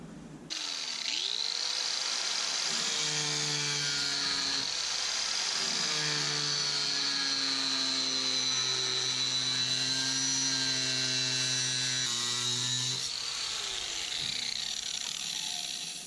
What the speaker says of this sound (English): try to do this grinding outside as often as I can to keep the dust down in the shop